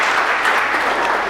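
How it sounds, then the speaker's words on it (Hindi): A studio audience applauds at a televised public-court style show, a dense steady burst of clapping heard close and loud throughout. "एक बार इनके कॉलेज के अनुभव के लिए बार जोरदार तालियां।"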